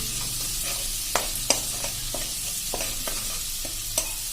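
A pan of sautéing ingredients gives a steady sizzle hiss with a few sharp utensil scrapes and taps as it is stirred, close and continuous.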